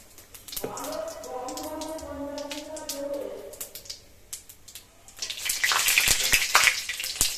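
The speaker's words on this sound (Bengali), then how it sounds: "দিয়ে তেজপাতাটা একটু ভাজা হোক" Bay leaf and cumin frying in hot oil in a pan; after a voice talks over a low sizzle, a louder, crackling sizzle rises and holds near the end.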